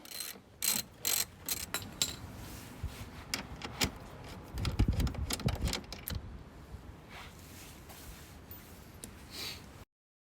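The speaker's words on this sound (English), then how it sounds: "Next, I remove this bolt at the back of the lamp housing." A ratchet loosens a bolt at the back of a lamp housing on a Jeep JL Wrangler, with bursts of close, rapid clicking and some mechanical rattles, then a quieter stretch.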